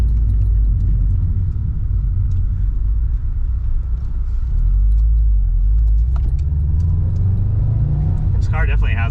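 A Subaru rolls along with a steady low engine rumble and road noise around the block to settle the suspension, with a brief jingling rattle near the end.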